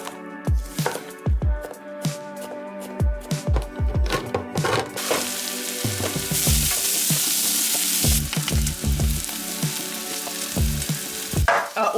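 Spices fry for chana masala in a hot pan, a loud sizzle broken by sharp clattering stirring strokes in an uneven rhythm, the hiss swelling into a dense roar midway.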